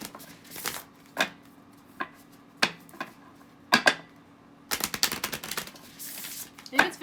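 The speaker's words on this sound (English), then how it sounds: "I'm going to shuffle the deck here." Tarot card deck being shuffled by hand in short crisp riffling bursts and taps, spaced apart at first and then clustering into a quicker run of snaps, close and fairly quiet.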